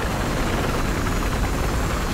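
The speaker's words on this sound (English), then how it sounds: "There's a chopper above us or something." Helicopter hovering overhead in the video game Battlefield Hardline, a dense, steady rotor and engine roar filling the space, loud and unbroken, with no talk.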